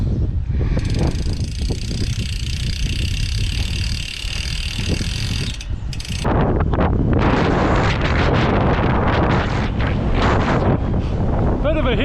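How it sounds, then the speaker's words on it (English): Strong headwind roaring across the microphone while cycling, a loud, gusty buffeting that swells heavily in the second half, close and rough, with no clear talking. "that is a debilitating headwind"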